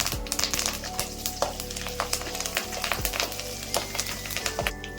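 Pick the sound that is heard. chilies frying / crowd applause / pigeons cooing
chilies frying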